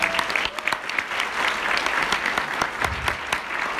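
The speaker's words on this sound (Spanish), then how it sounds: "Un fuerte aplauso" An audience at a business presentation event claps vigorously, with individual sharp claps standing out in a continuous round of applause.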